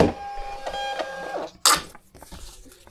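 A Bluetooth label printer runs off a shipping label with a close mechanical whirring and stepping buzz, then a sharp tearing or cutting rasp, followed by quieter handling sounds.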